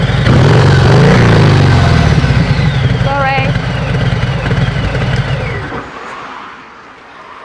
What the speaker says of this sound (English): Nice deep tone. Sounds like a big Harley.